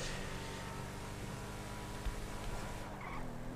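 Steady motorcycle engine roar with a brief screech of tires skidding under braking partway through, loud and continuous with no talking, in GTA 5 Online.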